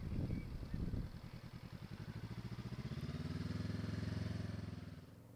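A motorcycle on a test-centre training circuit putters along with a steady pulsing engine note that rises and falls as the rider works the throttle, fairly close and with no talking.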